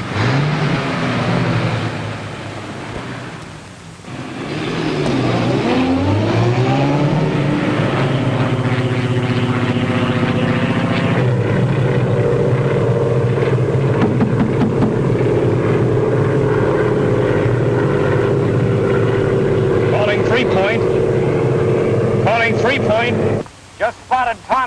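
Light plane's engine drones loudly and steadily through a 1939-era aviation scene, its pitch sliding and wavering as the aircraft descends to land, with film score and voices layered over it.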